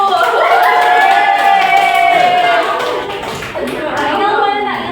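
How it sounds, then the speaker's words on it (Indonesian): Students in a classroom clap for a classmate, with lively young voices calling out over a steady patter of hands that eases near the end. "tepuk tangan kepada anak AU"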